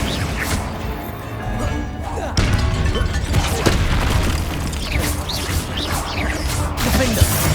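The Confringo fire spell in Hogwarts Legacy on PS5 blasts with loud repeated booms and crashing impacts amid other game effects, with a voice partly audible.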